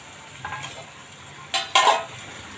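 Ground spices tipped into a hot pan for chana masala sizzle and get stirred with a spoon, two short bursts of frying standing out near the end over a low steady hiss.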